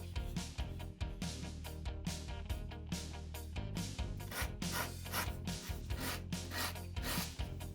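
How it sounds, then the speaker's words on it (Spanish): Someone hand-sands a walnut part for an OCCRE HMS Beagle model ship, making close, quick, rhythmic rasping strokes that repeat steadily with no pause. "La solución es ir lijando la pieza de nogal hasta que el acople sea lo mejor posible."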